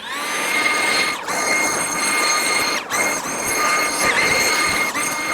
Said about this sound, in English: And then a blower, electric blower.